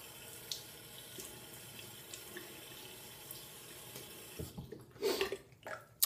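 Tap water running steadily into a bathroom sink while someone wets his face before a wet shave, a soft continuous stream followed by louder splashing and handling sounds near the end.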